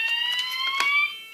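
A home smoke and fire alarm sounds during a test, giving a loud, piercing electronic tone that holds steady close by and then cuts off near the end, with no voices.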